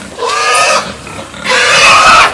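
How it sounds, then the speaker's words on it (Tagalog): Pigs being led out of their pen on a farm give loud, close squeals in two bursts separated by a short pause. "Naglalabas po kami ng baboy."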